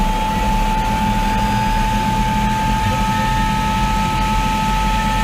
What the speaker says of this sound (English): Let's see what a jet engine actually sounds like on a bike.